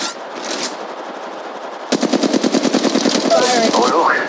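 Rapid automatic gunfire in the mobile shooter game Apex Legends Mobile, a loud, close burst of evenly spaced shots after a brief lull, with game effects and a voice underneath.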